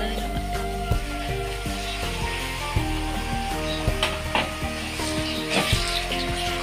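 Minced meat (keema) sizzling in a pan over high flame, a steady bed of frying hiss with scattered clinks and scrapes, while a faint voice seems to murmur underneath.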